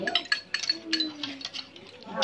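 Metal utensils clink lightly and repeatedly against a bowl as food is stirred and mixed, with people talking over the clatter.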